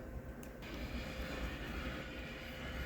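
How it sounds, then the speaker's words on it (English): A tram travels through a snowy city center in Khabarovsk, Russia, giving a steady low rumble of wheels on rail that holds for the whole stretch, with a brief higher squeal near the start. "There's a closer view of the trams that are traveling right through the center of the city."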